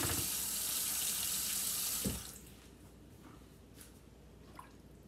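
Water from a tap pours steadily into leftover gravy for about two seconds, then stops, leaving faint drips and small liquid sounds in a quiet room, with no talk.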